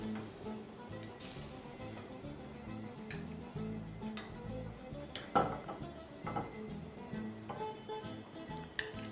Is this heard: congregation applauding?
no